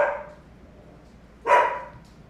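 A worked-up pet dog gives two sharp barks, one at the start and another about a second and a half later, close and loud over a quiet room.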